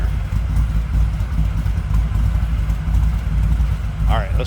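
1962 Chevrolet Biscayne V8 idling with a throaty exhaust, a steady low rumble heard up close with no break in it, and a short burst of higher-pitched sound right at the end.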